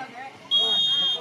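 A sharp, sustained referee's whistle blast cuts in halfway through amid crowd noise at a volleyball match, loud and close over a commentator's ongoing speech.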